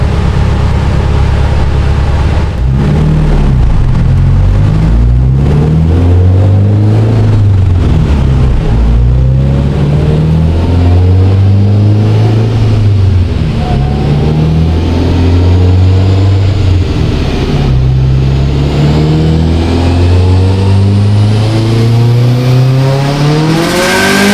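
A 2005 Subaru STI with a small turbo, running on a dyno, roars loudly and continuously as its engine climbs through repeated rising revs, the pitch sweeping upward near the end.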